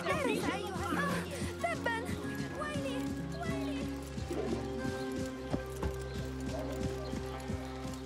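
Horse galloping in the Assassin's Creed Mirage video game: steady rhythmic clip-clop hoofbeats close by, with a brief whinny at the start and a voice talking over the hooves.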